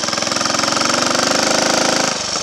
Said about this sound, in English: I retarded the ignition timing a little bit on the distributor to get a much better tick over